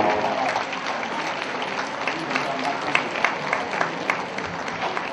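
An audience at a ceremony applauds warmly for a children's choir, dense continuous clapping filling the space, with a voice speaking over it.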